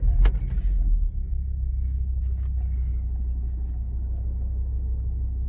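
Black Audi RS3 with a 340 bhp engine idling just after start-up, a low steady rumble that settles after a brief louder opening, heard from inside the car.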